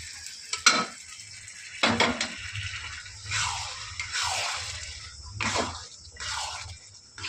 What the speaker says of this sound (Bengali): দেখো তড়কাটা দিয়ে কিছুক্ষণ নেড়ে চেড়ে নিয়েছি।